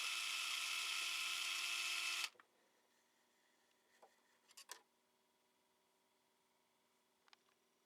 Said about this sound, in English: With a long drill bit, I made a 3 3/4 inch deep pilot hole for the screw eye.